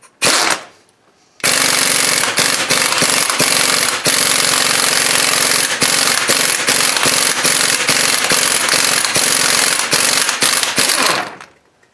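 An impact wrench with a 1.25-inch socket hammers a nut off the steering box of a 2000 Ford F250/F350 4x4 Super Duty, a very loud rapid rattling that starts with a short burst and then runs about ten seconds continuously.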